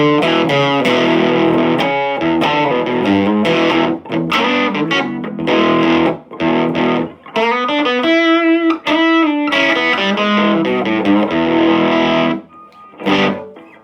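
An electric guitar, the G. Gould Slant T, plays a run of distorted notes and chords with effects, loud and close, with short pauses between phrases.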